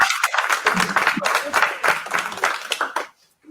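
A seated audience applauds after a talk on generative AI and education, with dense, lively clapping for about three seconds that then cuts off abruptly into near silence.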